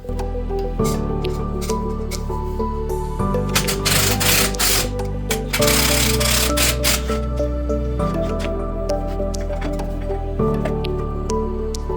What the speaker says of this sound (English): this is where I'm gonna undo the spring compressor